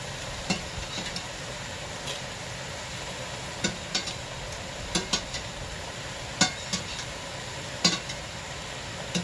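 Basil pesto pasta tossed and stirred in a pan with noodles that were boiled beforehand, giving soft intermittent scraping clicks over a faint steady sizzle, with no talking.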